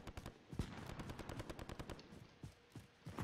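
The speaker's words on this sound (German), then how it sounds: "Irgendjemand höre ich die ganze Zeit rumsnipen." Distant gunfire in the Call of Duty Warzone video game, a faint string of repeated shots and cracks in quick succession, with no voices over it.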